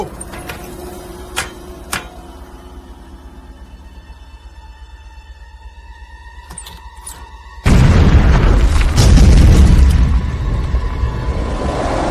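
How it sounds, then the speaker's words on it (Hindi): A cartoon explosion blows up a rock in a Motu Patlu animated film. After quiet tones and a few clicks, a sudden loud, rumbling boom bursts in and sustains to the end, with no speech. "उड़ा दो इस चट्टान को।"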